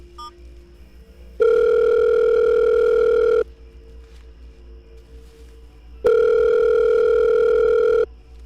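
A telephone tone sounds in two long steady bursts of about two seconds each, separated by a pause, clear and close with no voices, as a number is dialed on a home phone.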